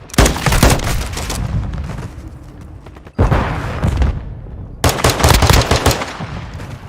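Rapid automatic gunfire from a Call of Duty match, loud bursts around a short lull with a sharp renewed volley, dense and continuous rather than single shots.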